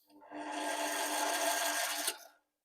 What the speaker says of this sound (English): get your RPMs off, go forward, slowly wind it on